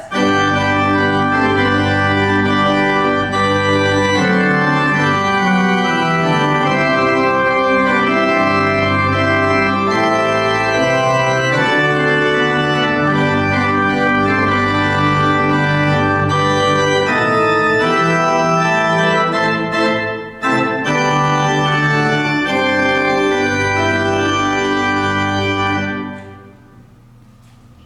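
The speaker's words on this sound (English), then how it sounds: "That's our pipe organ, and all of the sounds you heard came out of those pipes." A church pipe organ plays full, sustained chords with a rich, deep tone, loud and continuous, before the sound fades out near the end.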